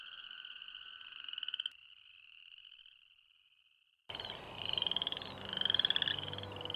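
Frogs of a far-ranging North American species croak outdoors: a steady trilling chorus that fades to one thinning call, then a louder, denser chorus of pulsing trills starts abruptly.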